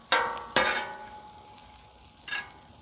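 Half an onion sautés on a Pit Boss Deluxe griddle for ham fried rice, a soft steady sizzle broken by three scraping metallic stirs of a spatula, close up.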